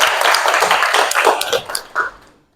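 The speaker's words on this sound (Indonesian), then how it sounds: "Beri aplaus dulu untuk Ica" A small group claps for a nursing student after a cardiac arrest resuscitation demonstration in a classroom, a short ragged burst of hand claps that thins out and stops within a couple of seconds.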